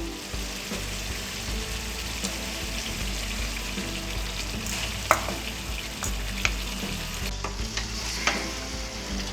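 Chicken coated in spices and batter fries in a pan, a dense continuous sizzle with scraping stirs and a few sharp clinks of the spoon against the pan, no voices.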